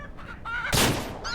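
A rooster crows in the Ranch Simulator video game, a single loud call through the middle of the clip among clucking fowl, with other chickens calling before and after.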